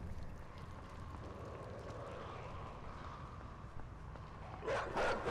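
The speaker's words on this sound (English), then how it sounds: "shit, there's a couple of fucking dogs." Dogs barking in the horror puzzle video game INSIDE, a couple of dogs growing louder near the end over a steady low game ambience.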